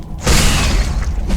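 Fire enemy spitting fireballs in the Arboria video game, a loud burst of whooshing, rumbling noise that swells after a brief quiet start and holds steady to the end.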